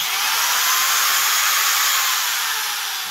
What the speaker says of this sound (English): So here's a drill